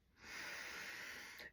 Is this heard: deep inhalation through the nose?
yes